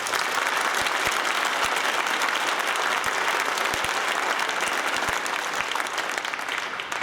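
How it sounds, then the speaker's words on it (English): Sustained applause from a concert audience at a Veterans Day concert for the FSU West Central Concert Band, steady and dense clapping filling the hall for the whole stretch. "Please join me in another round of applause,"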